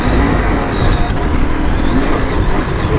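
A loud, continuous engine roar with steady rumbling, heard up close as a 2021 KTM 890 Adventure motorcycle drives with the throttle open.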